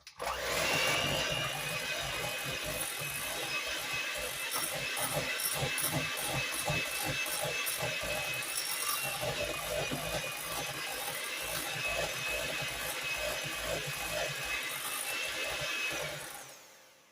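An electric mixer beating pumpkin swirl cheesecake batter with sour cream, a loud continuous motor whir with rattling beaters running steadily for about sixteen seconds before cutting off.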